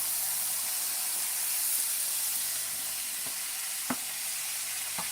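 Rice sizzles in a hot pan with curry powder for fried rice, a steady bright hiss that fills the whole stretch, broken near the end by a few sharp taps of a utensil against the pan.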